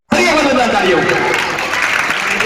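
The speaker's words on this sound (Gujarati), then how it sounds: "તાળીઓના ગડગડાટ શરૂ રહે." Applause from an audience at a January 26 school function, a sudden burst of dense clapping that starts abruptly and holds steady and loud throughout.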